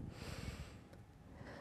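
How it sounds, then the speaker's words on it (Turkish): Slow, deep breaths drawn in through the nose and let out through the mouth during a relaxation exercise, a soft airy rush that sounds close and continuous. "3 defa burnumuzdan çiçek koklar gibi nefes alıp ağzımızdan bırakıyoruz"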